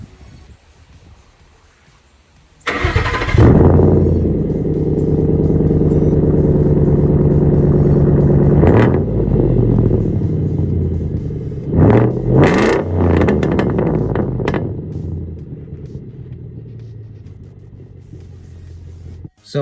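A high-mileage Ford 5.0L truck engine idles, then revs hard through its exhaust in a loud, close, sustained run with several sharp throttle blips near the end before settling back to a low idle.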